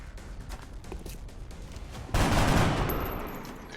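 A sudden burst of heavy video-game gunfire, loud and dense, kicks in midway after quieter scattered shots and then slowly fades, with no voices.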